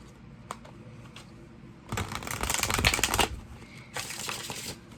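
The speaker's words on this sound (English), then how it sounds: "One more shuffle because that was a bad one." Tarot cards being shuffled in a couple of quick riffling bursts, close by, with quiet handling and taps in between.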